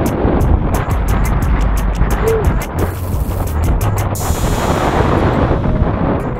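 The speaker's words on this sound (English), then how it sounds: "It is windy." Heavy wind roaring and buffeting against a microphone while riding a Trek bicycle, a loud, constant rumble with bursts of harsh rattling gusts throughout.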